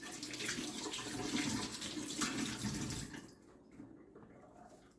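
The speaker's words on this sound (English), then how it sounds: "let me rinse my hands for all the inspectors to make sure that my hands are clean" Hands rinse under a running kitchen tap, a steady close splash of water for about three seconds before the flow softens and thins out.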